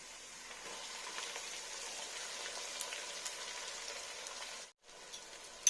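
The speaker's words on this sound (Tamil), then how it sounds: "உப்பு போட்டு வெங்காயம் வதக்குங்க" Onions sauté with salt in a pan already holding fried garlic, part of a fish curry, making a soft, even, rain-like sizzle that runs almost without pause and cuts out for a moment near the end.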